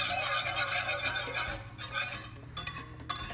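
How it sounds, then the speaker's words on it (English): Butter sauce stirred continuously in a pan during shallow poaching of flounder, a close, steady scraping swirl of utensil against metal that runs throughout, with a few sharper clinks near the end. "never want to stop stirring."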